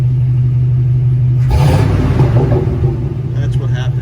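A 1983 Chevy K-10 with a 350 small block V8 that burns oil idles with a steady low rumble, then gets a throttle blip that swells into a loud, rough rev before settling back down.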